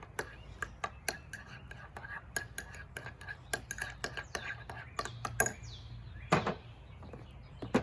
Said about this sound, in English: 2 parts mayonnaise, 1 part sour cream. Gonna mix that together.